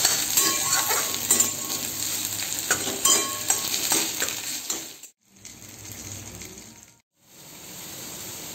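Small fish frying in a home kitchen pan with onion and cumin, a steady close sizzle with occasional stirring clinks, cut by two brief silent breaks before the frying resumes.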